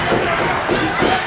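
A pro wrestling crowd roars and screams steadily through a short burst, a dense wash of many voices in an arena.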